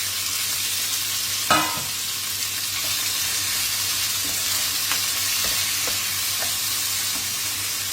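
Cherry tomatoes going into a pan of golden fried onion for a pizza topping: a soft thump as they land, then steady sizzling and light stirring scrapes, close and continuous without talk.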